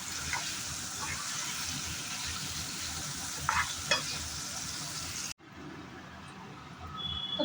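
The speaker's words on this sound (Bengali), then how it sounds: "এবার পনিরটা ভেজে নিচ্ছি বেশি ভাজবো না একটু হালকা করে ভেজে নেবো" Paneer pieces frying lightly in a pan for a home-cooked Bengali lunch give a steady, close sizzle with occasional stirring scrapes, then the sound drops abruptly to a quieter hiss near the end.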